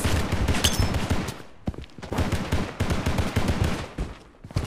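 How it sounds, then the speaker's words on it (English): Gunfire in the mobile shooter BloodStrike: dense, fast bursts of automatic fire close by, broken by brief pauses, with no talk. "Taking fire!"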